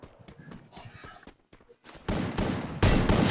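Gunfire from a mobile shooter game with an UMP submachine gun: soft in-game footsteps and shuffling, then two loud, close bursts of shots in quick succession.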